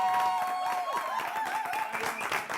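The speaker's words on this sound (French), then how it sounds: "On applaudit tout le monde." Audience clapping at a New Year's Day 2024 show, steady and fairly close across the whole stretch, with sustained musical tones ringing over the applause.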